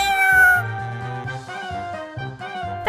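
A cartoonish cat meows a few times in quick succession in a pet-care game, clear and close, with light electronic game music underneath.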